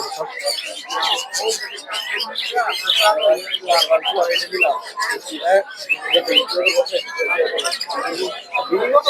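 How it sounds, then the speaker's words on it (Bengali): A dense chorus of many small caged birds chirping and tweeting at once at a bird market in Narsingdi, Bangladesh, close and continuous, with busy overlapping calls. "এদিকে প্রচুর পরিমাণে বাজিবার পাখি"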